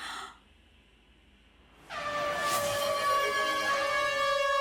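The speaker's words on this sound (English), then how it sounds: "I'm getting another air horn and I can hear it right now" A loud, sustained air horn blast kicks in partway through after a near-silent stretch, holding steady and bright to the end.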